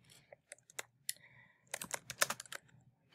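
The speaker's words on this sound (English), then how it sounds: "I'm just going to start typing in my text." Bursts of typing on a computer keyboard, close and quiet, with irregular clusters of key clicks separated by short pauses and no talk.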